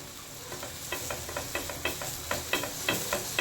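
Ghee sizzles on a hot tawa while a tomato onion uttapam cooks, with a steady hiss broken by repeated soft crackling bursts and scraping strokes, close and clear.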